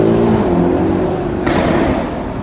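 A Mercedes E63 engine drones loudly and close, its exhaust note shifting in pitch, with one sharp burst of crackle partway through.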